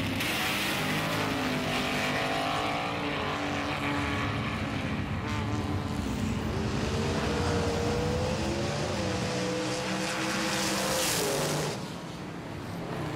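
Race cars, including a Mercedes-Benz and a Holden, running on a track at night, a steady blended engine roar with rising and falling whines as cars pass at a distance, continuous throughout.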